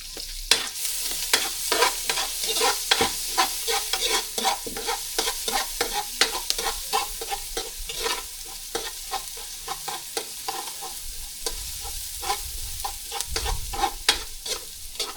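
Field frog meat fries with ginger in a pan, giving a steady close sizzle broken by frequent scraping stirs of a utensil, continuous for a long stretch with no talking.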